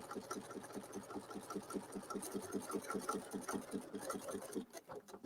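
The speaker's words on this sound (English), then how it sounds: "I'm going to sew along here, or baste rather" A sewing machine stitches fabric at a steady, rapid clatter, close and fairly quiet, running for several seconds before it slows and stops near the end.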